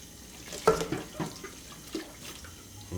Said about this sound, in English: Time to scrape it off. A little bit of soap and a sponge goes a long way.